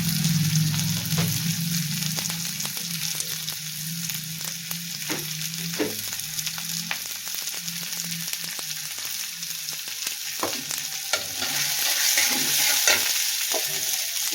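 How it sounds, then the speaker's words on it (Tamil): Ridge gourd chutney ingredients and urad dal sautéing in a pan: a steady close sizzle runs throughout, broken by frequent scraping stirs of the spoon against the metal, with no voices. "சேர்த்து நல்லா வதங்க விடலாம். கொஞ்சமாக உளுந்து சேர்த்துக்கலாம்."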